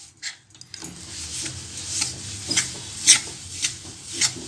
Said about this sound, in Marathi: तर धीमी गॅसवर हलवून भाजायचं.